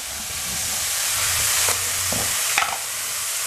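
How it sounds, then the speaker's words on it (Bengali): Lentils fry with spices in a pot for Saraswati Puja bhog khichuri: a steady close sizzling hiss with a few stirring scrapes and clinks around the middle, and no voices. "ডালটা দিয়ে বেশ কিছুক্ষণ ভালো করে একটু ভেজে নিতে হবে এই সবগুলো জিনিসের সাথে"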